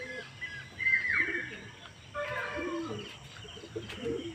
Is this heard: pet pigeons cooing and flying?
yes